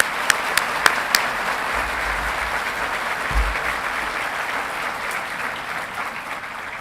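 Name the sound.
audience applause for the commencement platform party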